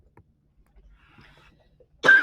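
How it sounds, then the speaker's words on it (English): Faint shuffling and near silence, then one loud, abrupt cough from a person bursts in right at the end. "I'm having a coughing attack."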